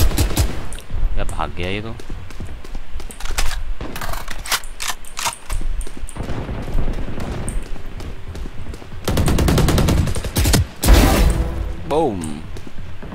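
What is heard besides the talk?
Phantom rifle gunfire in Valorant video game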